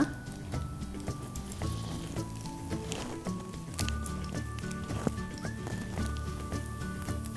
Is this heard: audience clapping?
no